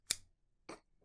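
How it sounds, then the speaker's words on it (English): Two short, crisp snips of scissors cutting through a lily stem, about half a second apart, close by in a quiet room. "That was the sound of me cutting a lily."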